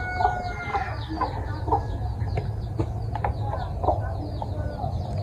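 Chickens cluck steadily inside a chicken house, with overlapping calls from several birds close by over a constant low hum of the shed and no talking.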